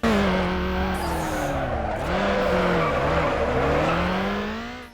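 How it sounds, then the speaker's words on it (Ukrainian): Tires squeal in long, loud drifting skids in the street-racing game Need for Speed Underground, the screech bending in pitch over a roaring engine for several seconds, close and continuous with no voices. "звуки шин при заносах і справді чудові"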